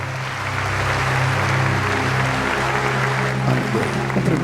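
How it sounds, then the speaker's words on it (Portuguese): A church congregation claps together at a Pentecostal service, a broad steady round of applause over a low sustained organ or keyboard drone, moderately loud throughout. "Confirme este amém com uma salva de palmas."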